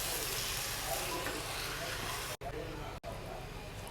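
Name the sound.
stirring eggplant curry with curd in a pan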